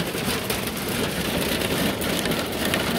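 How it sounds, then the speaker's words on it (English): Hail from a thunderstorm in Quartzsite pelts the ground in a dense, continuous roar of hard impacts, loud and close, with no voices. "thunderstorm here in Quartzsite and hail now"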